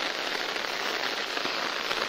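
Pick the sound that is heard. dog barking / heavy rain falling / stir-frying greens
heavy rain falling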